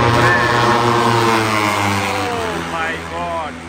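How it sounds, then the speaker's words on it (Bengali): MotoGP racing motorcycles pass at the Sepang circuit, a loud engine note sweeping down in pitch as a bike goes by, with spectator voices over it. "এই যে আরেকটা বাইক আসতেছে, এই যে দেখেন।"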